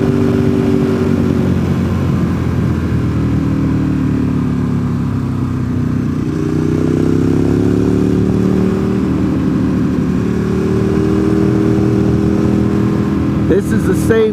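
Motorcycle cruising along freshly repaved US 28 south of Highlands, North Carolina, its engine drone steady and loud throughout with continuous wind noise and a brief rattle near the end.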